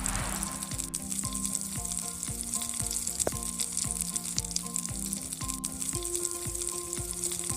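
Butter in a large pan over medium-high heat sizzles steadily and loudly, a dense continuous frying crackle with faint tonal clinks and occasional sharper ticks mixed in, no voices present.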